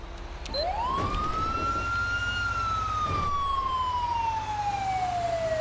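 A Freightliner EMS ambulance siren in GTA 5 wails loudly and steadily, rising quickly to a high pitch and then slowly falling in one long sweep over a constant engine hum.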